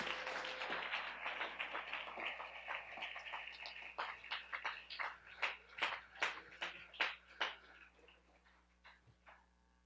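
A church congregation applauds during a Spanish-language service, a fairly quiet wash of many hands that thins into a run of distinct, rhythmic claps before fading out.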